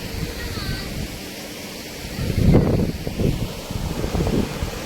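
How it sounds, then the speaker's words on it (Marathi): Steady wind blowing across an outdoor microphone in a Konkan village near a river, Kelye, Ratnagiri, with low rumbling gusts that swell partway through and a faint rustle, no clear talk. "मस्त आहे की बघा वारा बिरा सुटला आहे"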